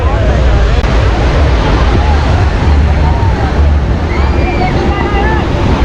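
Loud, continuous roar of surf and wind buffeting the microphone at Baga Beach, waves rushing close by without pause as a boat is launched.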